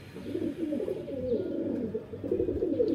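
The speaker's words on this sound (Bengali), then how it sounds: "পায়রাটা আমি কিনেছিলাম" Close pigeon cooing, steady low throaty coos rolling on continuously from a bird bought for 800 taka that is kept and flown at home; no talking.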